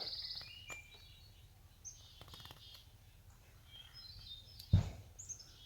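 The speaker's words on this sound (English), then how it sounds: "now you can really hear that brown thrush. He's just a thrushing away. He's not too far away." A brown thrush sings outdoors not far away, a series of high, varied chirping phrases repeating through the clip against faint insect hum, with a brief soft thump near the end.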